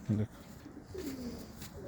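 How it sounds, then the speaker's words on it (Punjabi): A white-eyed female pigeon coos close by: one short, low coo near the start, then a second, longer coo about a second later, with quiet room noise in between. "ਚਿੱਟੀਆਂ ਅੱਖਾਂ ਦੀ ਇਹ ਵੀ ਕਬੂਤਰੀ ਆ"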